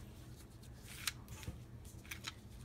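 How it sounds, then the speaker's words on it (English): Fabric scissors snip through cloth at a crafting table, a few crisp short cuts standing out over quiet room noise, with faint rustling of material between them. "And we get out the fabric scissors."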